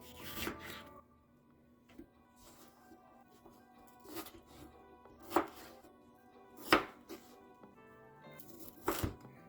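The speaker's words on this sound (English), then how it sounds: "So pit the pepper and chop it up." A pepper being chopped finely on a cutting board for quesadillas, a loose series of knife chops in uneven bursts, close and crisp, with quiet gaps between strokes.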